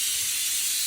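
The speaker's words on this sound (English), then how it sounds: "So we're going to go ahead and let our steam out of our Instant Pot" Steam vents from an Instant Pot pressure cooker after cooking chicken soup, a loud, continuous high hiss heard on its own for just under a second.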